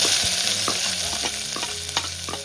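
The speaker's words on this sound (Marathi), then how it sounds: "मस्त तेल टाकलंय लसूण टाकते आता आता कांदा टाकून घेते" Onions and garlic fry and sizzle steadily in hot oil, close up, with a few stirring clinks and scrapes. No one speaks.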